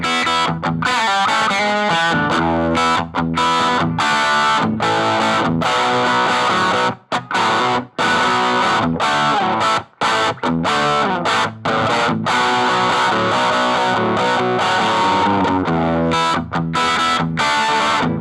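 Marshall Origin 5 combo guitar amp driven with heavy distortion and effects, playing loud, dense riffs with sharp stops and brief gaps between chugging phrases, the guitar heard alone.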